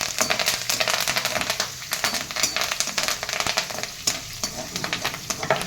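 Green chilies, dried chilies and curry leaves fry in hot oil with lentils and cashews for coconut rice, giving a dense, continuous sizzle with sharp crackles and stirring clinks.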